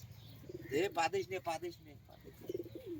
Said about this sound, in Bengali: এটা কিন্তু পাঞ্জাবি পায়রা